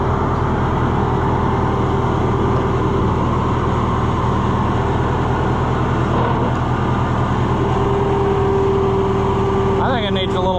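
A Massey Ferguson 50 tractor engine runs steadily just after starting, a loud, close, constant droning rumble throughout, with a brief voice near the end.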